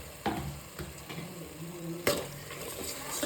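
A spoon stirs egg gravy with ground masala, coconut, ginger and garlic in a pan, scraping in a few distinct clanks against the metal with a soft sizzle underneath.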